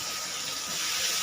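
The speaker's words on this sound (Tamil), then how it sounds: "ஒரு கையில் ஃபோனை வச்சு இன்னொரு கையில் பண்ணி ஸ்டவ்வில் வதக்கிட்டு காட்டுறேன்" Onions or similar vegetables sautéing in a pan on a home stove, a steady bright hiss of frying steam running throughout at moderate level, with no voices.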